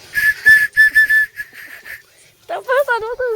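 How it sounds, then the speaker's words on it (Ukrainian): A whistle is blown in a series of short, sharp shrill blasts, followed by a wavering, warbling whistle tone, loud and close, during parkour training. "свисток зламався."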